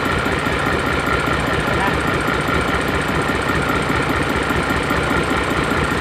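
An Isuzu 6HK1 diesel engine running after repair for lack of power and misfire: a loud, close, steady idle with an even rhythmic knock and constant vibration and no pauses.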